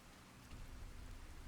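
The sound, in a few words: rain indoors in video game Fallout New Vegas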